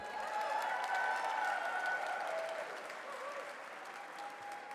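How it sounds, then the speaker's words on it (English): Audience applause at a forum event, a dense wash of clapping and some cheers holding steady for several seconds before easing slightly. "Can we hear another round of applause"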